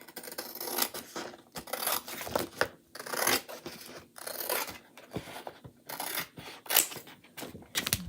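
Chalk Couture chalk transfer sheets being cut up with scissors, a close series of crisp snips and rustling paper rasps in irregular bursts with short pauses between cuts.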